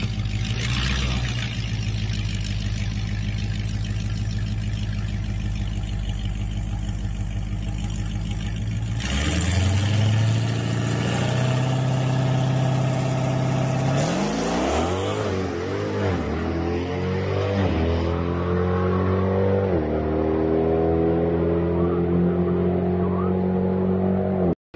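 A Jeep Grand Cherokee Trackhawk with a built transmission revs hard and accelerates, a loud, sustained engine roar climbing through gears with shifting pitch sweeps over about twenty-five seconds, no talking.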